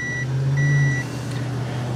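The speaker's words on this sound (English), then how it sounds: "So you can see I'm getting continuity." A multimeter emits a steady continuity tone while probing a Powerstroke 6.0 glow plug harness, a thin high beep lasting about a second over a constant low engine-bay hum, with no talking.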